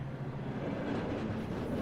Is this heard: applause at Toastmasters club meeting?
no